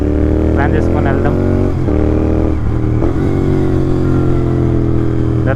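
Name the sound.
Royal Enfield Continental GT motorcycle engine revving as throttle is opened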